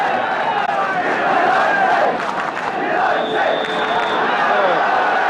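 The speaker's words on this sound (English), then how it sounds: "The crowd, not a great one, but all set for the kick-off." A football crowd at White Hart Lane waits for kick-off at a Tottenham Hotspur versus West Ham United league match, a dense, continuous roar of distant chanting and shouting that swells and holds steady throughout.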